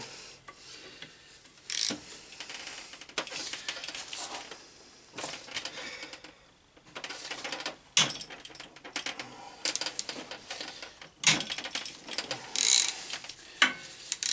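A wrench works on a BMW K1200GT motorcycle engine block during dismantling, making repeated ratcheting clicks, metallic scrapes and rasping in irregular bursts with brief loud clanks, close up and without talk.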